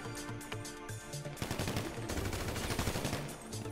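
Gunfire in GTA 5 from a shotgun and an assault rifle, opening with scattered shots and then a dense loud burst of rapid fire over game music, no talking.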